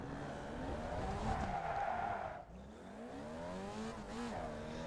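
A Formula Vee race car in iRacing skids and spins on cold tires, the tires squealing and the engine droning continuously with wavering pitch, near and fairly loud, with no voices.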